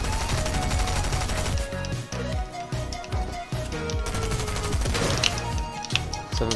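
Dense Fortnite gunfire rattles in rapid bursts close up, loud and nearly continuous over game music and effects.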